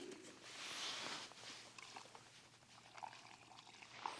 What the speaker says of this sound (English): Throw some water in on top of that.